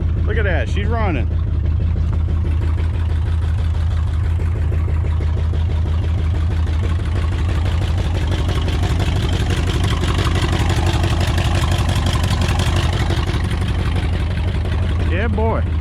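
A Ford Galaxie V8, running again for the first time in 26 years after being seized, idles steadily with a loud, continuous low rumble throughout, with brief voices at the start and end.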